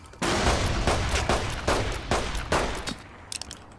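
Rapid gunfire from a firearm in Fallout New Vegas, a burst of about eight loud, close shots in quick succession, with a few lighter clicks trailing at the end and no talking.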